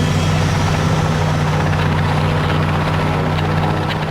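A helicopter's steady, loud rotor thrum and engine drone fill the whole stretch, close and constant, with no other sounds.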